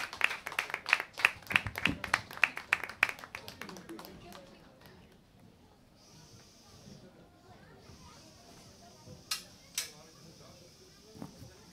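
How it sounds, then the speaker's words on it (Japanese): Audience clapping at a small live concert, a brief run of sharp scattered claps close by that thins out after a few seconds, followed by quieter room noise with a couple of isolated later taps. "拍手"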